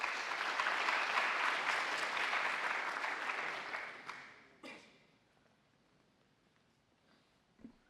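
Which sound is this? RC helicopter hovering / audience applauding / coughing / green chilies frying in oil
audience applauding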